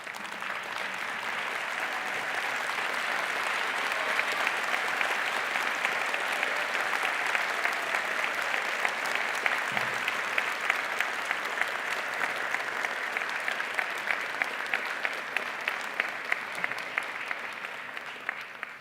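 Graduation ceremony audience applauds at length, a dense, even roar of many hands clapping in a large hall, steady and sustained with no talking.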